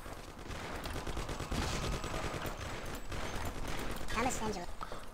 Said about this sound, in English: So here's a shootout. We're gonna fire a bunch of shots. Take this guy's Thompson.